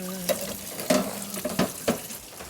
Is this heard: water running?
yes